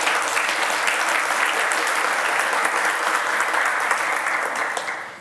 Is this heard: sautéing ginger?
no